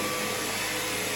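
A LEVOIT LVDC200 cordless vacuum cleaner runs close by with a steady, loud whirring motor hum and a high whine, unbroken across the short stretch.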